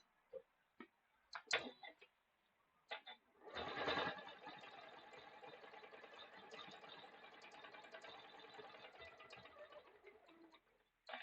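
A sewing machine stitches a quilt in straight lines, starting after a few light clicks and running in a fast, even chatter for about seven seconds, close and moderately loud.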